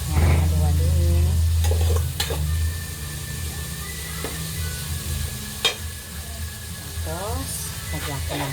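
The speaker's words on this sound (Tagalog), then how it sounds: "Yan, halu-haluin." Saluyot leaves and squash being stirred in a pot, with steady frying sizzle and hiss throughout, punctuated by a few sharp utensil scrapes and clinks, while someone talks over it.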